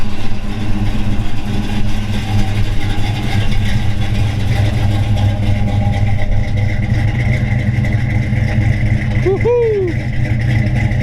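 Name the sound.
1955 Chevrolet Bel Air engine running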